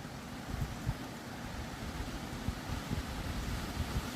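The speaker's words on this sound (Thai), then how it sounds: "พายุเข้าครับผมพายุเข้าครับ" Steady storm wind roars and rumbles against the microphone over rice fields, with low gusty buffeting throughout and no voices.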